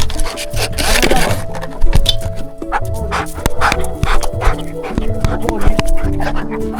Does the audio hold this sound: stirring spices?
no